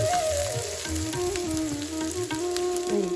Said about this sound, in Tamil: அது மாதிரி வெங்காயம் லேஸாக வதங்கிடுச்சு